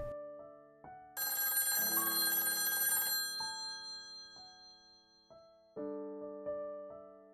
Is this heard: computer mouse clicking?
no